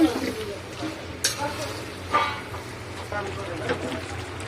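Khichuri being sautéed in a pan with split chickpeas, a soft sizzle with intermittent stirring scrapes and clatters, close by, with a voice talking faintly over parts of it.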